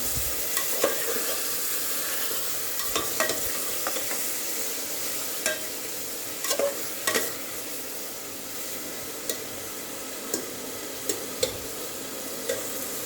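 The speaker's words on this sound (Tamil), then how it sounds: "நல்லா கிண்டி விட்டுக்கோங்க. தக்காளி நல்லா கொஞ்சம் வதங்கட்டும்." Tomatoes sautéing in a pan for tomato rice, a bright, steady sizzle running throughout, dotted with scattered spoon clinks and scrapes as they are stirred, close and fairly even in level with no voices.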